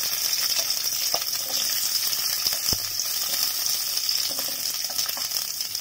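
About fifteen peeled small onions frying in a little oil for tiffin sambar make a continuous soft sizzle, with a few scattered clinks and taps over the steady hiss.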